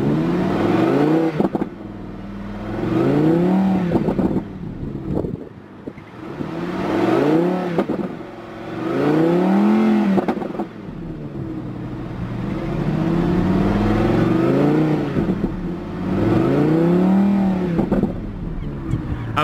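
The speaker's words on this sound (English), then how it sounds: "Let's go ahead and activate the sports exhaust." A 2017 Audi R8 5.2 V10 Plus with its sports exhaust open revs repeatedly, close and loud, each blip rising to a snarling howl and dropping back to a burbling idle, in a regular series of pulls.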